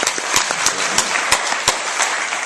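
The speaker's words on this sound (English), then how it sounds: "Give those people a round of applause." Audience at a San Diego seminar giving a round of applause, a brisk burst of many hands clapping with crisp, prominent individual claps, fairly close and loud.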